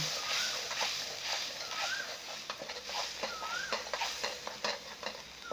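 A sauce with soy sauce and white soy sauce, made for a spicy stir-fry of crispy fried catfish, reduces in a pan with a bright, continuous sizzle and bubbling crackle, stirred with occasional utensil scrapes.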